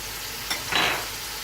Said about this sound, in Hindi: अब इसे हम अच्छी तरह से भून लेते हैं।